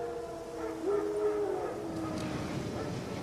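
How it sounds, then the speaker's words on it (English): Wild dogs in the video game The Witcher 3, a single drawn-out howl rising in the middle of a distant ambient backdrop, with faint yips trailing after it. "Wild dogs. Yes. More dangerous than wolves."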